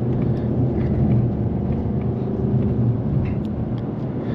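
A 2024 Ford Mustang GT Premium with a 5.0L V8 and automatic transmission cruises along a road, its exhaust a steady low droning rumble heard from inside the cabin over constant road noise.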